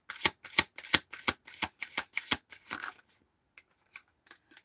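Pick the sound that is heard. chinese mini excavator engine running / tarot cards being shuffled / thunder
tarot cards being shuffled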